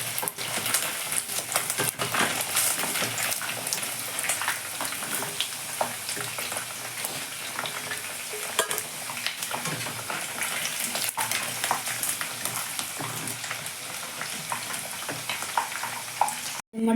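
Chicken frying in oil in a pan, a steady dense sizzle with stirring scrapes running throughout, close and loud with no talking.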